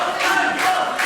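A wrestling arena crowd cheers and shouts in a dense, continuous roar of voices, loud and sustained throughout the short stretch.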